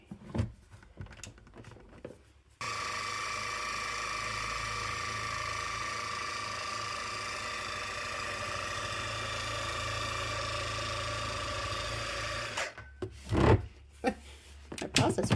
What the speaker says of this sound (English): My processor's trying to walk across the counter.